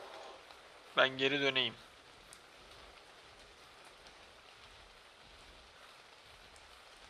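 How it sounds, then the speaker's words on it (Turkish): Steady light rain patters throughout in ARK: Survival Evolved, with someone speaking briefly near the start. "Aa yağmur da başladı."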